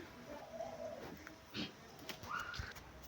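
Pigeons coo in low, soft, rolling calls from a video playing in the background, faint and somewhat muffled, with a few scattered clicks and rustles.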